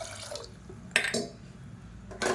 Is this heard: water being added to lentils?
yes